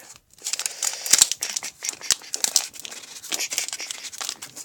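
Pokémon XY Steam Siege booster pack wrappers crinkle and tear open close up in bursts of sharp crackling foil, with no talk in this stretch.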